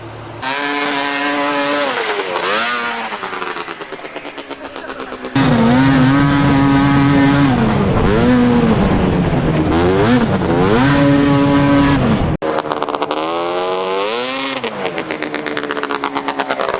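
A homemade $500 offroad buggy engine revs and drones loudly throughout, pitch rising and falling as it drives with a jet ski throttle, briefly surging harder in the middle.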